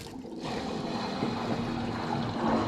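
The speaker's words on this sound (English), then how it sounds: "So we're going to go ahead and turn the water back on here." Water turned back on in a home's plumbing after a water hammer fix, rushing and hissing steadily through the pipes at a moderate level after a brief quieter start.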